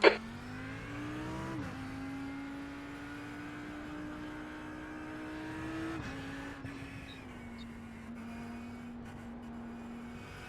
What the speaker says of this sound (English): Watch your mirrors, there's a car approaching.